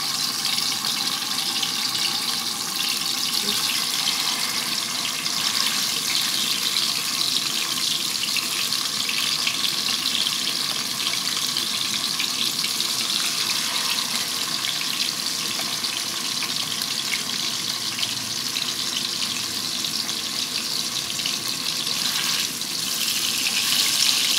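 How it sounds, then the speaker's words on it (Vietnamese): Pieces of seitan frying in hot oil for a vegan dish, a dense, steady crackle and hiss heard close and loud throughout, unbroken and without voices. "Bây giờ mình sẽ chiên nha"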